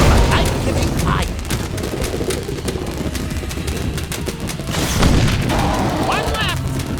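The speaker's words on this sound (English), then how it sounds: "what happened to all those fireworks we didn't get to shoot off last year?" Fireworks explode during a Sam & Max VR game session: a steady stream of bangs, crackles and booms, dense and loud, with a heavier burst near the end.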